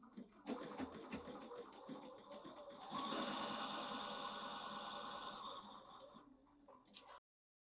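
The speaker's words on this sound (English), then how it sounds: "Let's just go sew on the line." A sewing machine stitches a seam on a small quilted table runner, a close, steady rapid whirring that starts up, runs for several seconds and stops.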